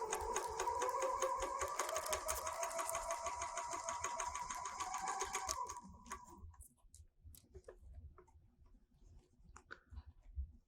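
A serger sewing machine running while making a rolled hem, a loud steady rapid stitching whir for about five seconds, then stopping and leaving faint clicks and handling noises.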